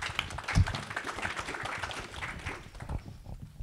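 A room of people at a venture capital panel claps for a speaker coming up, a dense patter of hands at moderate volume that thins out toward the end.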